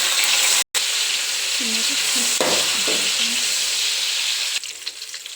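Ginger, garlic and dried byadgi chillies frying in a pan, a bright continuous sizzle with a brief cut, then a few stirring clatters and a quieter hiss at the end, close and with no talk.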